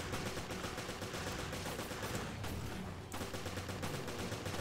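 Gunfire from the video game Resident Evil Revelations, continuous dense rapid shots rattling steadily throughout with a brief lull near the middle, loud and close, no voices.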